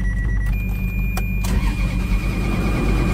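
A 2002 Ferrari's engine cranks slowly with a labored, pulsing starter drone, close and steady throughout, alongside a faint high electronic tone.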